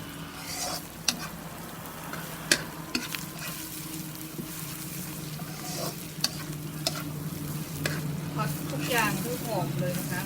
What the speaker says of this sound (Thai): เอาคั่วนะคะผัดผัดพริกแกงให้หอมเลยนะคะ